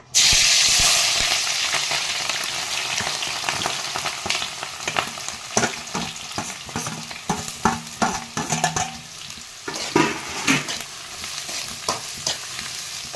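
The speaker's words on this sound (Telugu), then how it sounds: "కాగిందండి, ఆనియన్స్ వేసుకుందాం." Sliced onions hit hot oil for an okra stew, starting with a loud burst of frying hiss that settles into a steady sizzle, then stirring strokes scrape and clatter against the pan, close and without speech.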